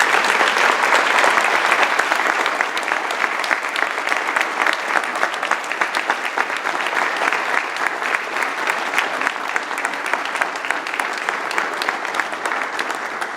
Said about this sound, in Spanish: Pido para todos ellos y ellas un aplauso fraterno y cariñoso.